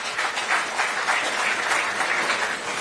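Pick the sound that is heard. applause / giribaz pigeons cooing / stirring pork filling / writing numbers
applause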